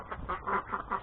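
Ducks on a farm quacking in a quick run of several nasal calls, close and fairly loud, with no talking.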